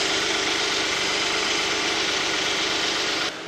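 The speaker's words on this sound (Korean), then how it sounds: "엔진 소리 들려드릴게요." A Hyundai Genesis BH330 V6 idles steadily with its hood open, a smooth, even, fairly loud hum heard up close without voices, dropping slightly near the end.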